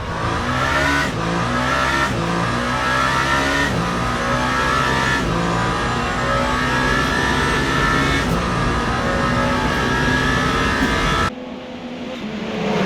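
Race car engine of the number 8 Toyota at Le Mans Ultimate's Indianapolis circuit, a loud, sustained high-revving drone with repeated gear-shift steps and rising pitch, cutting off abruptly near the end to leave a quieter rumble.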